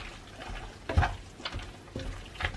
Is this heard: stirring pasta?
yes